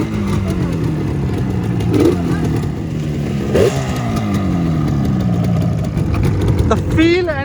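A Yamaha RD350 HT motorcycle engine idles and revs in bursts, fairly close, with rising pitch sweeps and some voices talking over it.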